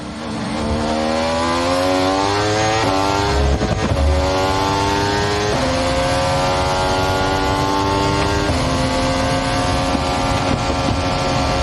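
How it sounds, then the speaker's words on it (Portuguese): A 2014 Formula 1 car engine during qualifying at the Bahrain Grand Prix, loud high-pitched whine climbing repeatedly through gears with sharp upshift steps, continuous and close, no talk. "Será que faz ruído ou não faz o carro de Fórmula 1?"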